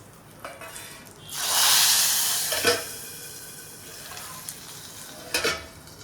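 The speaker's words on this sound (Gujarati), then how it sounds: "છેલ્લે નાખશું આપણે લીમડો. તડકો રેડી થઈ ગયો છે. આપણે નાખશું દાળમાં." A tempering of dried red chilies, asafoetida and curry leaves is poured into dal, bursting into a loud, close sizzle that swells and fades over a couple of seconds, followed by softer stirring and a few more short crackles.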